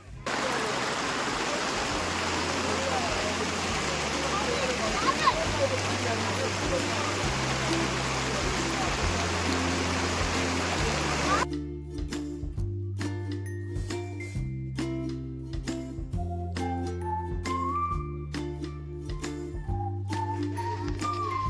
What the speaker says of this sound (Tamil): ஸோ கைஸ் செம்ம மழை ஒரு 2 நிமிஷத்தில்